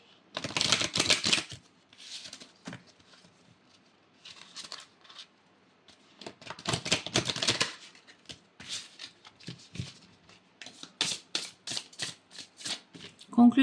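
Oracle cards are shuffled in bursts of rapid riffling and flicking, close and crisp, separated by quiet pauses and a few softer handling sounds as cards are drawn.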